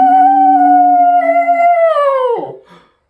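A single dog lets out a loud, close, sustained howl that holds a steady pitch, then bends downward and breaks off into a short whimper.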